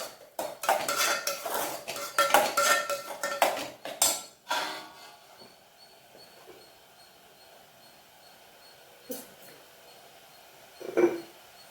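A utensil stirs chili, coriander and turmeric powders in oil in a cooking pan for tomato rice, with quick scraping clatter for several seconds, then quiet sizzling with a couple of isolated clinks.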